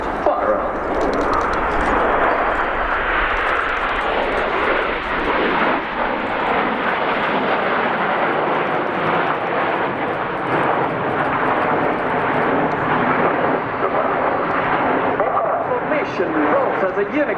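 Nine Frecce Tricolori Aermacchi MB-339 jets fly a formation roll at an air display, giving a loud, sustained roar of jet engines that swells and fades, with a commentator's voice over it.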